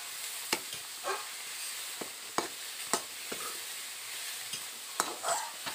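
Dried-coconut fritters crackle faintly in hot oil while a utensil clinks and scrapes the pan at irregular intervals as the pieces are turned.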